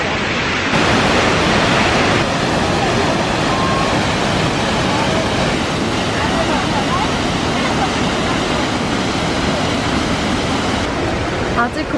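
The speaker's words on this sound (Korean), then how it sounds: "지금 5분 정도만 더 걸으면 폭포를 볼 수가 있어요. 소리는 맞습니다." A steady, broad roar of a waterfall in the mountains near Shifen, Taiwan, fills the air, constant and fairly loud without any break.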